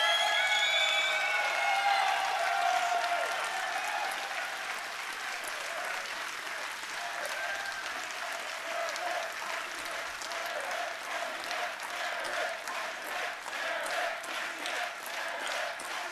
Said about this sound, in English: just a round of applause for both Fractal and EricICX